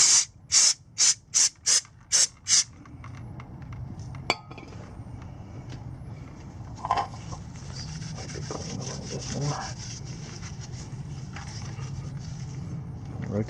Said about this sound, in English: We're gonna shoot some brake parts cleaner onto the rotor.